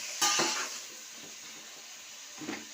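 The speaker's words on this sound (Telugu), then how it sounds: "ఫ్రై చేసుకోవాలి." Pieces of ivy gourd, carrot and okra fry for sambar in a pan, a soft sizzle with a clatter of a spoon stirring at the start and again near the end.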